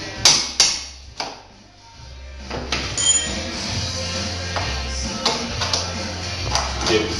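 Hammer blows on a drift pin punch driving a pin out of an EZGO golf cart's rear body frame: several sharp metallic taps, spaced irregularly, near and fairly loud, with quieter shuffling handling noise between strikes.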